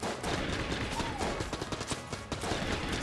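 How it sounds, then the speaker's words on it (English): Repeated explosions and gunfire-like blasts burst through a steady, dense wash of game combat in Enter the Gungeon, loud and continuous for about three seconds with no talking. "those explosions knocked the enemies all over the goddamn place"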